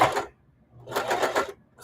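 A sewing machine stitching a quilted mug rug in two short bursts of rapid mechanical whirring separated by a brief pause, close and alone.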